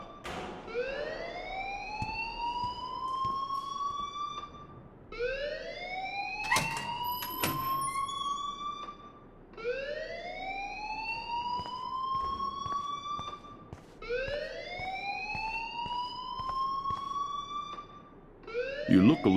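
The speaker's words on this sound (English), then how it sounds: "please turn off that alarm" A repeating rising siren wail sounds as the school alarm in the video game Life Is Strange, looping about every two and a half seconds, loud and continuous, with faint thuds and some talk underneath.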